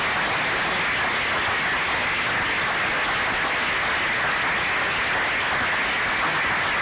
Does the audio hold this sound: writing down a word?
no